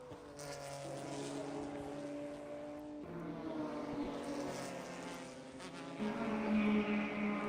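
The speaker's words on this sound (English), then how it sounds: "Draws up alongside and past one of the open throttle racing BMWs" Open-throttle racing BMWs passing at speed on the Road America circuit during an endurance race, engines droning steadily at a moderate distance with rising and falling pitch as one draws alongside and past another.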